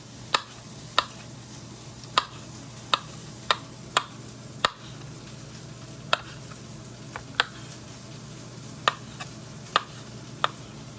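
A knife slices Kalamata olives into thirds for a tomato, olive and caper salsa, giving irregular crisp taps on a cutting board, about a dozen over several seconds, quiet and close, with no talking.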